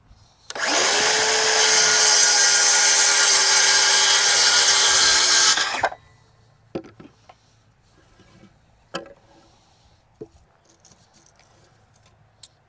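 Power saw cutting through a wooden board for a berry trellis, one loud sustained whine lasting about five seconds, close by, then sharp clunks and light knocks as the board falls and is handled.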